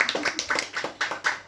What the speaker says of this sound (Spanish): Les damos un aplauso y les dejo por aquí.